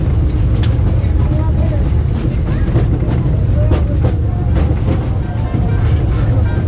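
The Disneyland Railroad train runs along its rails as a steady, loud low rumble with faint clicks and squeals. Voices can be heard faintly under the noise.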